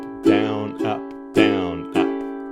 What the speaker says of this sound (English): Really straightforward bar. In time sounds like this